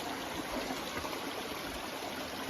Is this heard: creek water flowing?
yes